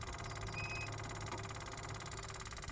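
The engine of a 1984 Powerfab 1700x mini excavator idles at a steady tick-over. It makes a quiet, even hum with a constant rhythm and no revving.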